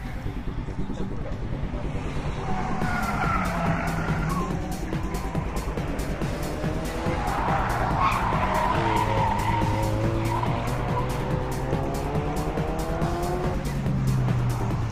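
Nissan 180SX drift car with a turbo kit and roll cage spinning out, a loud continuous engine roar and long tire squeals sliding up and down in pitch throughout.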